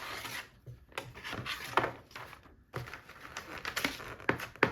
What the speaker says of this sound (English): I'm just going to get my old trusty glue stick out and do the whole thing